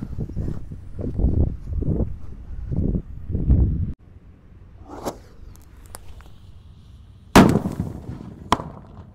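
A Roman candle bazooka launcher firework goes off outdoors during Ramadan evening festivities, giving a sharp loud burst followed by a second crackling blast and a final pop, after a stretch of nearby talking.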